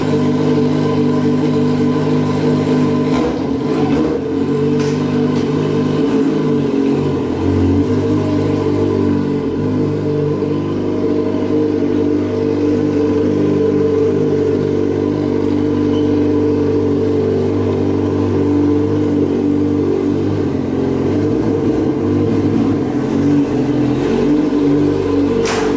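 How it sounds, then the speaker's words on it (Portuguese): A mini motorcycle engine revs loudly and steadily for a long stretch, its droning pitch rising and falling slightly as the throttle changes, very close with no talking. "E aqui está a moto mais barulhenta do mundo, né?"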